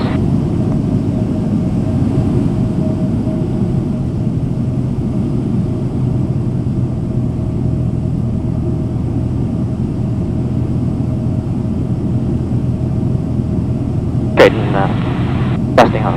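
A small airplane's engine drones steadily and loudly through a takeoff, a constant rumbling hum heard from inside the cockpit, with radio chatter and a couple of brief clicks near the end.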